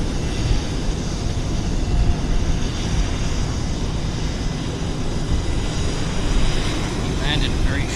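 Airplane landing at Vancouver Airport, a broad, steady roar of engines and rushing air heard from a distance, fairly loud and unbroken, with a voice speaking over it at times.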